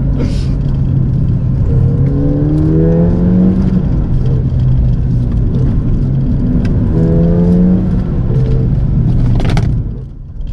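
A Ford Fiesta ST hatchback is driven hard through corners, its engine droning loud and close from inside the cabin with rising and falling revs as it pulls through bends, before easing off at the end.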